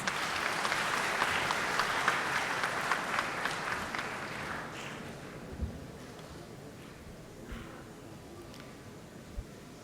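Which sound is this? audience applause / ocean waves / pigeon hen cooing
audience applause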